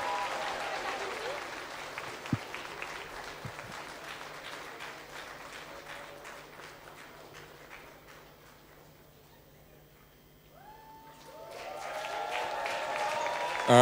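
Church congregation applauding and cheering to welcome a pastor at a Sunday service, a dense sustained burst that fades after several seconds, then swells again loudly near the end.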